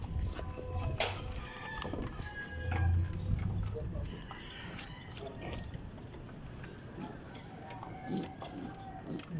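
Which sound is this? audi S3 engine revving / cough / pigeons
pigeons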